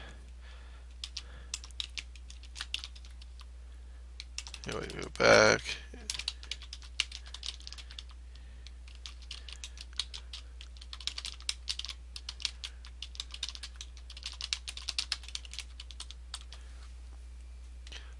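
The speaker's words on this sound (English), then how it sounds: "I'm gonna start typing in my words here" Rapid clicking of keys on a computer keyboard, steady and close, with a brief louder burst midway and a short spoken phrase.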